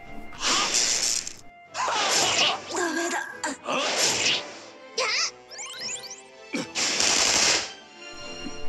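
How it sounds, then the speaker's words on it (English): Repeated gunfire in the Shin Megami Tensei Strange Journey Redux video game: several loud, sharp bursts spaced across the stretch, with brief gaps and a swooshing effect between them. "gunshot again"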